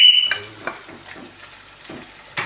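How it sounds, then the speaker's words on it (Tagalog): Onion goes into a hot pan, giving a close sizzle and sputter broken up by several scraping stirs and utensil clatter, with a sharp burst of sizzling at the end. "Lagyan natin ng sibuyas."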